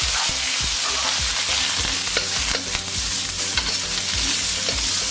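Mushrooms deep fry in oil on high heat, giving a loud, steady sizzle. Regular scraping knocks come from stirring throughout, and no one speaks.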